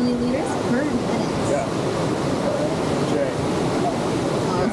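The Niagara River rushes downstream below Niagara Falls at roughly 35 to 40 km per hour, a steady, loud broadband roar of churning water that holds without pause, with a voice faintly present underneath.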